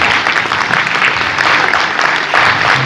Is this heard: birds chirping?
no